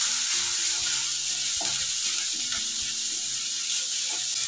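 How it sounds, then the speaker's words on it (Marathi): Garlic cloves and reddening onion fry in oil for a traditional Maharashtrian eggplant bharit, giving a steady, close sizzle that runs unbroken from start to finish, with a faint tonal hum underneath. "लसूण देखील तेलामध्ये परतून घेऊया"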